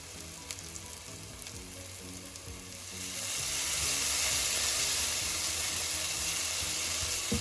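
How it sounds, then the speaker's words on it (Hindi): Chole masala spices frying in oil in a pan for chole bhature, a steady close sizzle that swells louder and denser partway through, with faint stirring and no talk. "अच्छे से मिक्स कर लेंगे और उसको भी सारे मसालों के साथ पकाएंगे।"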